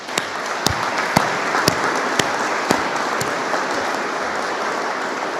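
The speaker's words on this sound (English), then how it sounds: "I'd like to give those folks a clap of hands for what they've done." Audience applause at a grand opening ceremony, a steady, dense wash of many hands clapping with a few sharper, louder claps standing out near the microphone, continuing without pause.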